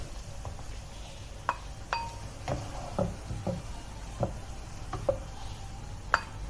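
Bottle gourd halwa being stirred and mixed in a pan, giving a series of soft scraping strokes and light clinks of the spoon at an irregular pace, close by and fairly quiet.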